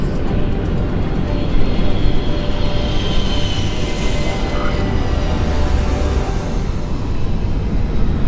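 Steady, loud roar of an airplane cabin in flight, a continuous broadband engine and air rush that stays even throughout with no voices.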